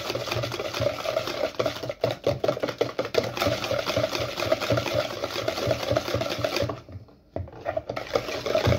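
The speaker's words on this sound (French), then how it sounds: "Je mélange." Biscuit batter flavoured with lemon and orange zest is beaten by hand in a bowl, a fast rhythmic clatter of whisking strokes that runs close and steady, pausing briefly near the end before resuming.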